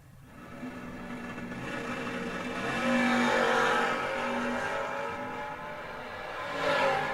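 Drag race cars launch side by side at a memorial event, one of them a first-gen Camaro, with loud engine roar building and swelling, then easing before a second surge near the end.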